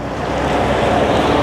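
The River Ruhr in Germany running high with a heavy flow of water, heard as a steady, broad rushing wash that stays fairly loud and even throughout, with no voices over it.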